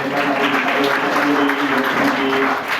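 Loud sustained applause from an audience at a yoga gathering welcoming a guest, many hands clapping in a dense, continuous patter.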